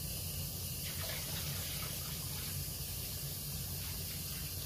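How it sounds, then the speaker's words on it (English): Tap water runs in a steady close hiss and spray while raw shrimp are rinsed in a bowl, with a faint swish of the shells under the continuous flow. "then you rinse your shrimp in the sink, well, in the bowl"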